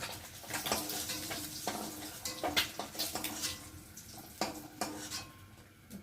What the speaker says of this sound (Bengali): ডিমগুলো ভাজা ভাজা হয়ে গেছে, আর এখন আমি ডিমগুলোকে একে একে তুলে নেব।